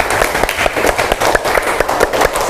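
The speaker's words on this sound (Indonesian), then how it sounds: "Kita berikan tepuk tangan." Students in a classroom lesson clap for a classmate's group summary, a loud, close patter of individual hand claps with uneven rhythm and a faint murmur of voices.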